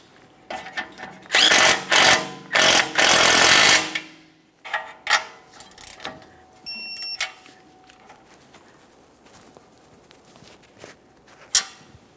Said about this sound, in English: We'll continue on with the tie rod end nut. Start it on, snug it up.